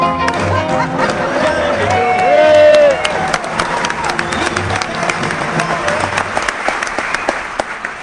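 Theatre audience at a live comedy stage show breaks into sustained applause and cheering, a dense wash of clapping that swells and then settles into steady ongoing claps, with a brief musical tone and faint voices in the mix.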